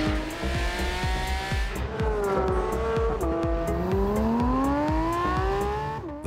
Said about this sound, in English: The car sounds superbly, especially from the inside.